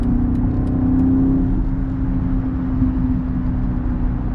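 A 2023 BMW X7 M60i with a twin-turbo V8 and mild hybrid system drives along, giving a steady, loud engine drone with a sustained low hum throughout and no voices.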